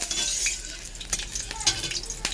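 Greens sizzle and crackle in a hot pan, with occasional scraping stirs and soft utensil clicks over the steady frying hiss.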